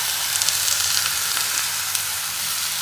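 Dal hitting a hot pan in a fenugreek dish, giving a steady, close sizzle with bright crackling hiss throughout and a few faint clinks, no talk.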